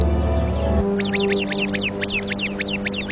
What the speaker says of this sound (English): The sentry bird immediately sounds the alarm.